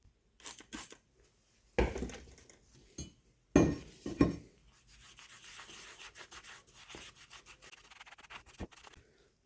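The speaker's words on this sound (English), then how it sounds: "This slug slime is probably on here to stay. I'm really scrubbing that" Hard scrubbing of slug slime off a BMW E46 limited slip differential, with a few sharp close rubbing bursts followed by a long run of steady, rapid brush strokes.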